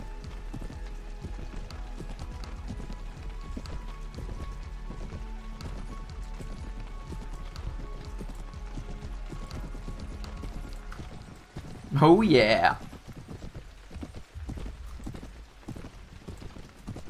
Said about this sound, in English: Okay, cavalry is moving in.